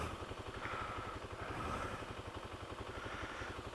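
A Kawasaki KLX300 dirt bike engine idles steadily with an even, rapid thumping pulse, heard close and alone with no talking.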